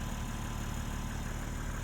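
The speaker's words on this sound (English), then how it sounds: "you'll hear enough of this engine on the drive" A 2022 BMW X3 M Competition engine runs steadily at a low, even idle, with a constant dense hum and no talking.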